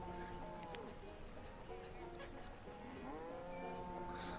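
Cattle in the video game Banished give low, drawn-out moos against steady game ambience and a faint clip-clop of hooves, all quiet beneath a voice talking.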